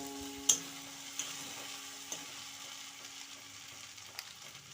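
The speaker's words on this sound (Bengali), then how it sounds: "আমি খুন্তিটা দিয়ে যেন ভালো করে নেড়ে দিই।" A spatula stirring chili powder and turmeric as they fry in a pan, with a soft continuous sizzle broken by a few sharp scraping clacks at irregular intervals, close up and without talk.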